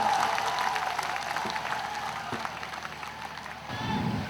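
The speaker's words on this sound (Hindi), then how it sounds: "इमरान प्रतापगढ़ी को तालियों से इस्तकबाल करके बुलाएं" An audience applauds at a mushaira held during a graduation ceremony to welcome the poet Imran Pratapgarhi, a steady wash of clapping that fades a little with faint voices mixed in.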